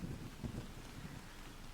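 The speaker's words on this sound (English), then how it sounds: "Oh, more lightning." Steady rain and low rumbling thunder in the farming video game Harvest Days, a continuous dense wash of noise without speech.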